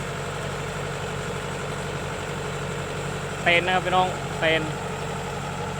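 A Kubota DC-105X combine harvester's engine idles with a steady low drone, while someone speaks a few short phrases over it near the end.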